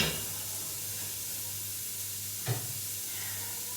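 Onions fry on low heat in a very heavy pan, giving a steady, close sizzling hiss throughout, with one brief clatter midway.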